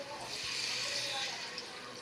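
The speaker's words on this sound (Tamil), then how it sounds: "நல்லா வதக்கிட்டு கொஞ்சமாக தண்ணி சேர்த்துக்கலாம்" Water is poured into frying masala for a fish curry, a steady near pouring rush that fills the clip, with speech over it.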